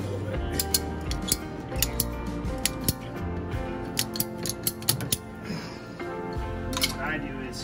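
Scissors cutting material down during plumbing and insulation repairs on a Jayco Seneca motorhome, making a string of light, quick clicks and snips close by over a steady low rumbling background.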